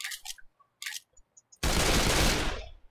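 Pistol gunfire in the zombie shooter Left 4 Dead 2: a few sharp shots early on, then a sudden long, loud burst of dense firing and blast noise that fades toward the end.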